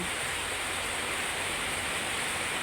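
Rain falls steadily in a broad, even hiss, loud and continuous, with no other sounds over it.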